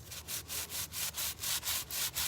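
Wood is sanded by hand for a DIY project in steady back-and-forth strokes, about four per second, each a close, rough scratchy rasp with no voices.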